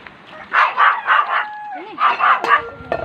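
A chow chow dog barks repeatedly in short bursts, fairly close, with a few yips and whines between the groups of barks.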